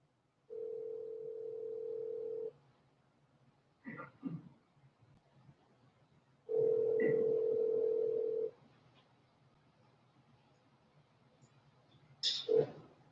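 Two long, steady telephone dial tones play alone during a meeting phone call-back, each lasting about two seconds, separated by brief clicks and faint handling noise, with a short burst of higher beeps near the end.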